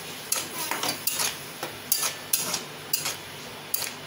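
Soybean chunks and puree are sautéed in a pan, and a spatula knocks and scrapes against the metal in a steady rhythm of sharp clinks over a faint sizzle, close up and with no speech.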